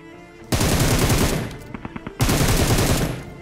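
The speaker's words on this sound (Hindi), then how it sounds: "अब यहाँ से फायरिंग सामने से फिर से हुई" Bursts of automatic gunfire from ahead in a shooter video game, two dense volleys separated by a brief pause with a few isolated single shots, loud and close with no talk.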